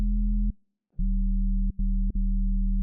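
A Serum 2 synth bass patch for bass music, its main tuning modulated by an envelope at -7%, plays a sustained, buzzy low tone. It cuts out briefly three times, with no voices.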